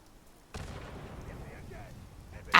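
A grenade goes off in Fallout 76 with a sudden broad boom that rolls into a sustained rumble, with voices nearby and a sharper burst right at the end.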